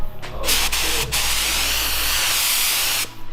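Nozzles spray water at 40 psi in a steady, loud hissing rush after a couple of quick sputtering bursts, holding for about three seconds before cutting off abruptly.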